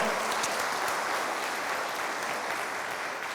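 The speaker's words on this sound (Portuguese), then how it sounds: "Você pode aplaudir a Deus nesse momento?" A church congregation bursts into applause during a thanksgiving service, a dense, sustained clapping that fills the room loudly throughout without any talking over it.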